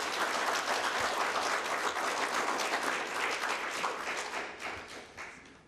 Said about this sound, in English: if you give them a nice round of applause for all their answers.